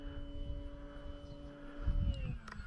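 An Arrows RC Husky model airplane flies a knife-edge pass, its motor giving a steady, fairly distant whine with a rumbling wind undertone that swells briefly near the end.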